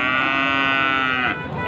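A young Indian calf at a cattle market moos once, loud and close, as a drawn-out bellow lasting over a second that tails off at the end.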